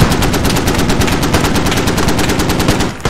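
Sustained automatic gunfire in the tactical shooter Squad, a loud continuous stream of rapid bursts laying down suppressive fire, steady throughout before cutting off near the end.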